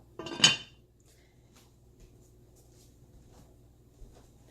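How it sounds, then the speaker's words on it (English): A single clanking knock as a lid drops onto a saucepan of homemade marinara pasta sauce, followed by near silence with faint low hum. "But I'm going to cover it for now"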